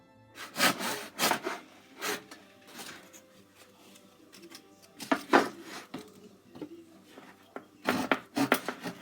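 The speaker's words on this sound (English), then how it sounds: "even how to cut wood with a handsaw" A handsaw cuts through wood in uneven bursts of rasping back-and-forth strokes, close by, with short pauses between groups of strokes.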